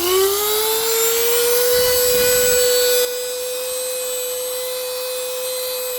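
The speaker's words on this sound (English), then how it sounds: "So I'm gonna take my Dremel." A Dremel rotary tool spinning at high speed while polishing a chrome-finished Colt Python replica, a steady close whine with a drop in loudness about halfway through, no talking.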